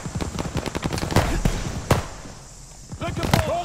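Machine gun fire in the video game Call of Duty Vanguard, with rapid bursts of shots close by, a few louder single cracks, and battle sounds around the firing, under voices talking.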